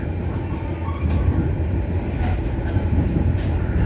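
A KA Pangrango passenger train travels the Sukabumi–Bogor mountain line, giving off a steady, continuous rumble with faint rattles and no voices.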